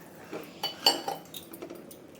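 A metal lid goes onto a cooking pot of potato curry in a home kitchen, making a few close, light clinks and clatters, with one sharper knock in the middle.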